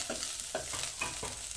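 Ginger-garlic paste with turmeric stir-fried in a pan, heard as a soft sizzle with several quick, rhythmic scraping strokes close by, with no voices.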